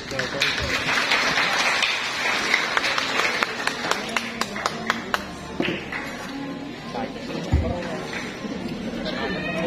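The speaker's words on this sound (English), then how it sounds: "A round of applause," A church congregation at a worship marathon claps in scattered, uneven bursts. Sharp individual claps stand out over a dense crowd murmur, with voices talking and calling throughout.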